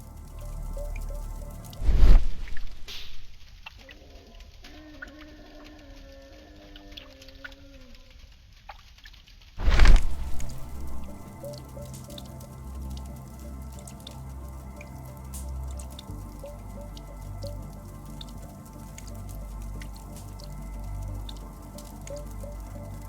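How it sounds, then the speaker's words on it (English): Water drips steadily from a leaking roof in an old London building in a Sherlock Holmes video game, two louder splashes standing out over a soft, continuous patter of drops and a low ambient hum. "The roof leaks all the time."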